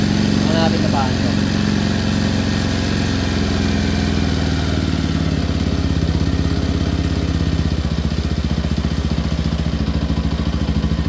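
A Bajaj Rouser 220 motorcycle that had long sat unused runs with a steady, close mid-pitched engine rumble and light mechanical clatter, while people talk over it.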